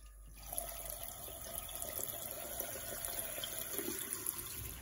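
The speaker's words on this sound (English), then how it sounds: "don't forget to turn your tap on" A campervan water tap runs steadily after a brief click, with a continuous close hiss and splash of water into a small sink, fairly quiet and with no talk.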